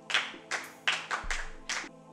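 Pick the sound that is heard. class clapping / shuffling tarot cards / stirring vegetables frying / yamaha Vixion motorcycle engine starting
class clapping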